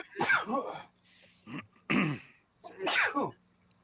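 Two sharp sneezes burst out close by, separated by short breaths and a quieter throat sound in between.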